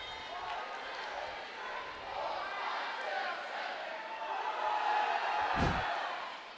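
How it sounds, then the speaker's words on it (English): Students cheering in the crowd at a women's college volleyball game between Bowling Green and Pittsburgh, a broad, distant crowd roar that swells and fades under continuous commentary, with a ball thump near the end. "You can hear some of the students here."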